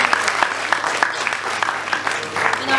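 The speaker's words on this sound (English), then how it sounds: "A round of applause for that." An audience at a university open forum in Ghana breaks into scattered, uneven clapping that carries on throughout, fairly close and moderately loud.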